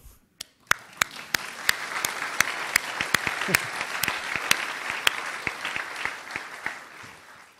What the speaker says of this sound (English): big round of applause for the web people